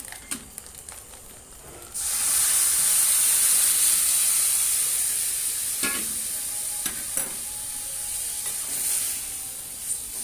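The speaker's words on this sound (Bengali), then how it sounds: "নেড়ে চেড়ে নিয়ে একটু এবার লাউটা ঢেলে দেবো" Bottle gourd goes into a pan of hot oil and cumin seeds. After a few quiet clinks it bursts into a loud hissing sizzle that keeps going under the scrape and clatter of stirring.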